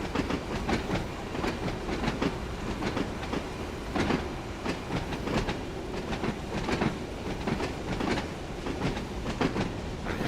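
A train rolls past the train wash and depot in a video game, steady rail clatter with repeated clickety-clack beats over a continuous rumble, fairly close and with no voices.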